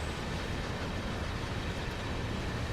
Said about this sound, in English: Listen to the sound of those containers as well.